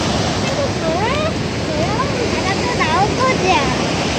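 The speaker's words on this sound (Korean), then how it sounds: "여기 파도를 많이 치네." Steady rushing water noise of waves breaking at Haeundae Beach in Busan, loud and close, with faint high voices or chirps drifting over it.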